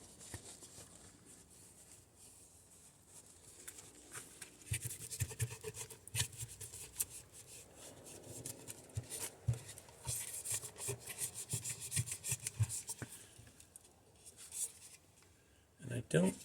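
A cloth with Eco Cleaner rubs and scrubs over a plastic car light lens, a close, quiet scratchy friction in irregular strokes that goes on for several seconds, with soft talk at times.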